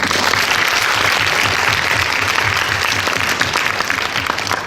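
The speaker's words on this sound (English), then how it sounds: "another big round of applause to our speaker today" Dense, steady applause from a conference audience for a keynote speaker on personal fabrication, sustained at full loudness for the whole stretch with no talk over it.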